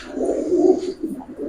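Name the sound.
pigeons cooing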